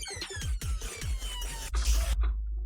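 Serum software synthesizer with a changed wavetable in a riddim and hybrid trap production, harsh buzzy stabs with falling pitch sweeps over heavy sub bass, several hits in quick succession, loud and dense, then an abrupt cutoff.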